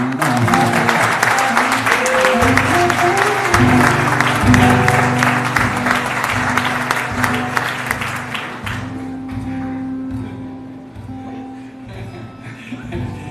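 Warm applause from a church congregation during a Sunday service carries for about nine seconds over sustained music, then fades, leaving the music softer and alone toward the end.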